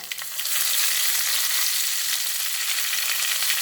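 Mustard seeds, urad dal and curry leaves sizzle in hot oil for a cabbage and pea stir-fry, a steady loud hiss that settles in after a brief crackling start and runs on alone without any voices.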